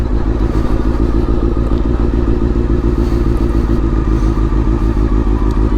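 A Honda CBR 600F4i sport bike rides steadily, its engine a dense, continuous drone with a rapid pulsing throb that holds near and loud throughout, with no voices.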